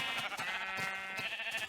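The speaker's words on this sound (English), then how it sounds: "This is a large amount of sheep." Sheep bleating in Minecraft, several short game bleats in an irregular overlapping rhythm from a large flock, loud and close with no speech.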